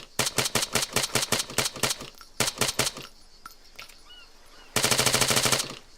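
Spar rifle from the Arma 3 video game firing in rapid automatic bursts, loud and close, with a short quiet gap before a final sustained burst.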